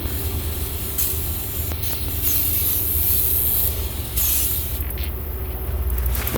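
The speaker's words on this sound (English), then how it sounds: "I'm going to go ahead and spray off my grease pan with barbecue grill cleaner." Barbecue grill cleaner sprays in long hissing bursts onto a grill's grease pan, close and loud, with brief pauses between sprays and no talking.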